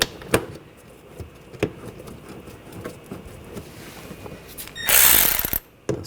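Ratchet tightening a bolt on an accessory drive belt tensioner bracket of a 2014-2020 Nissan Rogue 2.5L four-cylinder, sparse clicks and pawl ticks, then a short loud rapid ratcheting burst near the end.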